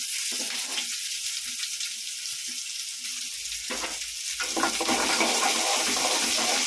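Garlic cloves and large onions frying in a pan for a Tamil kuzhambu give a dense, close hiss that swells and stays loud throughout, with a few faint scrapes and no voice.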